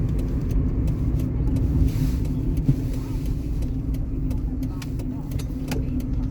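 Hyundai i10 car driving along a motorway, a steady low engine and road rumble with continuous tyre noise from inside the car, constant and fairly loud throughout.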